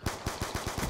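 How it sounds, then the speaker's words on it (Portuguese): Black Ops 2 gunfire: five or six loud, evenly spaced bursts of automatic fire in under a second, with no voices. "Calma aí que tem cara atirando aqui"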